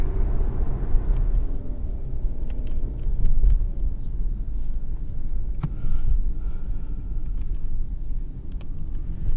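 Interior drive in a 2020 Mazda CX-30 small crossover: a steady, loud low engine and road rumble fills the cabin throughout, with faint ticks and rattles above it and no talking.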